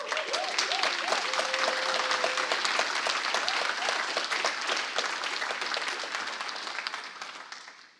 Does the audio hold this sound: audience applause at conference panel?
yes